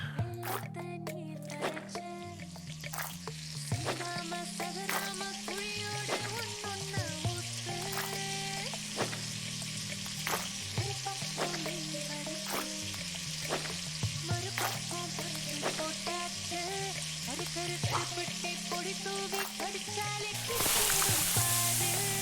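Food sizzles and spits in a frying pan in the cooking video game Venba, a steady crackling fry running throughout with soft drips and squishy kitchen sounds layered over gentle background music.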